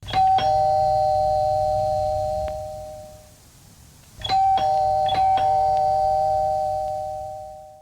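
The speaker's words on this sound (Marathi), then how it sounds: "तितक्यात दारावरची बेल वाजली" A doorbell chimes twice, clear electronic ding-dong tones ringing out, a pause between the two rings, in an otherwise quiet room.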